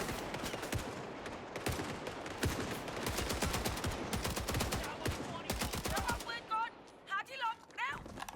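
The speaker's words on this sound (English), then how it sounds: "And now the machine gun's gonna come out." Rapid machine gun bursts in Indiana Jones and the Great Circle, loud, dense rattling volleys repeating close by, thinning into scattered shots and ricochet-like whines near the end.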